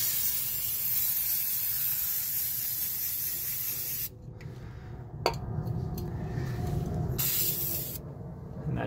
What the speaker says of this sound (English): to protect it, I'm using truck bed liner